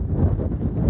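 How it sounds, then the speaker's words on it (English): Strong wind buffets the microphone beside the River Wyre on open marshland, a continuous loud low roar with gusting rumble throughout and no pauses. "it's incredibly windy"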